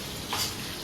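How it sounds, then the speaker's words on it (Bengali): Pieces of hilsa fish fry in hot oil, a brief close sizzle with a soft swell of crackle. "এখন আমাদের ইলিশ ভাজা হচ্ছে"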